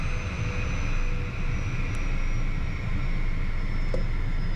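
A small airplane engine drones steadily at low power while taxiing, close by and continuous, with a constant rumble and faint higher whine.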